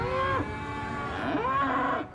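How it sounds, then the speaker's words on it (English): Cattle at a busy livestock market low out in two long, loud moos, the second following closely after the first, with no talk over them. "The ranchers bring their cattle from far and wide to market."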